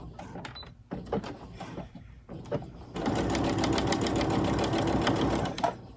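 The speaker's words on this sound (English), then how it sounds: "I'll go back to a straight stitch and sew right around that." A sewing machine runs a straight stitch around the center piece of an upcycled-fabric doll blanket, first a few short stop-start bursts and handling clicks, then a steady, close, continuous whirring run of stitching for several seconds.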